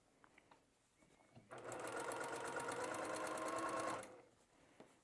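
A sewing machine stitching through layers of fabric on a stuffed bear, one steady burst of rapid mechanical whirring and needle chatter about two and a half seconds long, close and clear, with faint handling clicks before and after.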